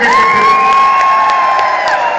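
Crowd at a 2013 Everest Concert in Malaysia cheering and whooping loudly, a sustained roar of voices with a high tone running through it; applause is not clearly distinct.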